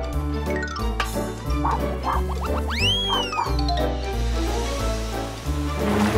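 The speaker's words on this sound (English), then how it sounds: "You get the award for the cutest doggy dog." A cartoon dog barks in a kids' animated show, several bouncy yips and woofs over a plodding musical score with swooping whistle-like effects.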